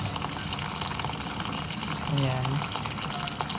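Water runs steadily into a container until it is full, a constant gushing rush with a brief rising tone, while a person speaks briefly.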